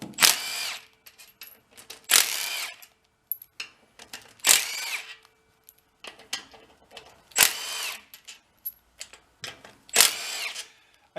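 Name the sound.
power tool removing bolts from lawnmower engine side cover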